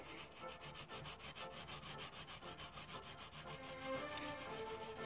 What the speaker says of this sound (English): Let's give it some scrubbing.